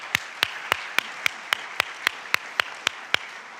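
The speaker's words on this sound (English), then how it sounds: "I would love if you would join me in a huge round of applause for our guest speakers here today" An audience applauds guest speakers at a talk on human trafficking, with a steady wash of clapping cut through by sharp, evenly spaced claps, like a rhythmic beat kept up throughout.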